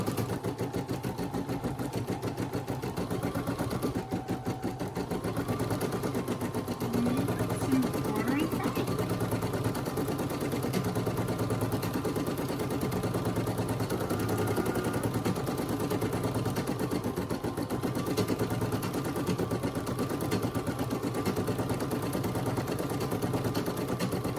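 A Brother SE1900 embroidery machine stitching a Santa hat, giving a steady, fast mechanical whirring and needle clatter that runs continuously and close by for the whole stretch.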